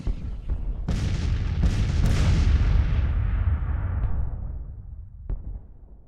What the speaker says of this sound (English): Just gonna let my artillery just continue to pound him.